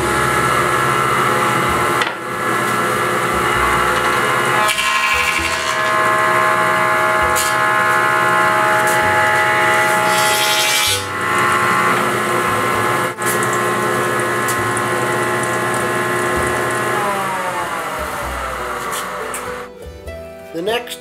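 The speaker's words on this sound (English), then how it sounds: "this is our planer" A wood planer machining a board makes a loud, steady, close roar of whirring cutter and motor, with a few brief dips as the pass changes, then winding down at the end.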